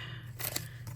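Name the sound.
scissors cutting washi tape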